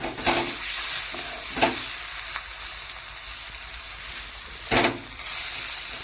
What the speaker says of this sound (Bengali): মোটামুটি ভাজা হয়ে গেছে, এবার একটু এটাকে উল্টে পাল্টে নেব।